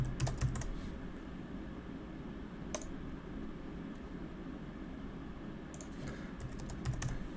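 Computer keyboard typing, heard as quiet clusters of quick clicky keystrokes at the start and end with a few isolated taps between, all over a soft steady background hiss.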